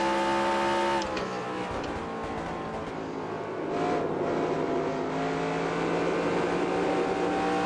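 A stock car cornering in NASCAR Racing 2003, steady high-pitched engine drone that drops briefly then builds again as the car pushes through the turn, loud and alone.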